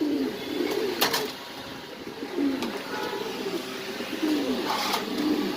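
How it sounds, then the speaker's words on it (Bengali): Fancy pigeons, including Lark and Gurenberg Lark breeds, coo in a loft in Mirpur, Dhaka, giving several soft, rolling coos at intervals with quiet background noise and a few faint clicks. "এখানে আছে লার্ক কবুতর"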